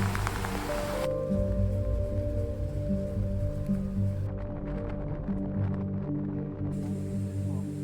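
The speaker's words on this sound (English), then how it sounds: "At least in here, I've got some shelter from the wind and the rain's not driving in my face." Wind and rain beat against a shelter during a long ultra-running journey around Wales, a steady dense wash of rainfall and wind noise throughout with no talking.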